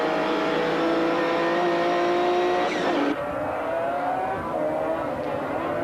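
A Segel Motorsport Porsche 911 GT race car at Paul Ricard in 1995 screams past close by, its high engine note rising and then dropping sharply as it goes, with other cars droning on behind.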